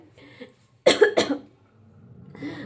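A single sharp, close cough from a person with a cold and fever, with a quick second burst, preceded by a faint voice and followed by quiet breathy sound.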